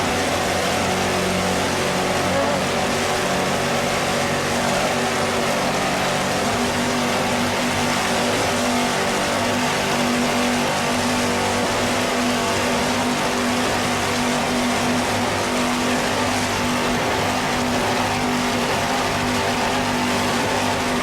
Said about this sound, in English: Let's listen to those Carolina racing engines, too. 600 horsepower Carolinas.